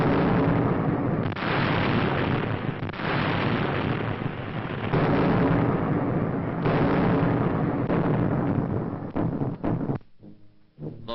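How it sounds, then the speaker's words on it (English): Sustained heavy artillery fire from British and American guns during the WWII assault on mainland Italy, a dense continuous roar of blasts and booms, loud and unbroken for about ten seconds before cutting to quieter rumbling at the end. "Here, under the guns of British and American artillerymen,"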